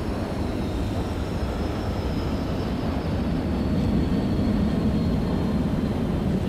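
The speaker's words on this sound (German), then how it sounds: "Ich höre Flugzeuge." Aircraft drone overhead in the zombie survival game Dead Island, a steady, continuous low rumble that stays even throughout with no voices.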